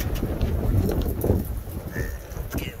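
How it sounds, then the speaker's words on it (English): Gusty outdoor wind buffets the microphone with a steady low rumbling roar and occasional louder gusts, close and continuous, with no voices. "It's getting windy."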